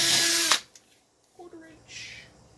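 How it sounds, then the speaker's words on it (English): A power drill with a 1/4 inch bit drills down through material while installing an Atlas signal system, giving a loud whirring burst that stops abruptly, followed by quiet handling noises and a brief voice. "Alright, 1/4 inch drill."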